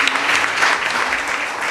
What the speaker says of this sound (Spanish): Dele un fuerte aplauso al Señor, hermanos.